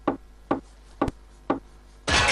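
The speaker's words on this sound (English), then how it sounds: "I thought I heard someone knock." Knocking on a door in an animated period drama set in Venice: four firm, evenly spaced wooden raps about half a second apart, followed by a sudden loud rush of noise at the end.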